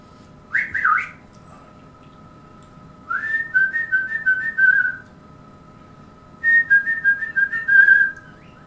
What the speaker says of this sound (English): Gives a whistle.